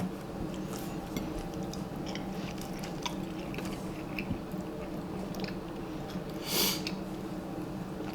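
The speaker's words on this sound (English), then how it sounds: "we're going to go ahead and take a bite" A Philly cheesesteak on soft bread being bitten and chewed close to the mic, with faint moist chewing and soft crunches running steadily throughout. One brief louder burst of noise comes near the end, and no one speaks.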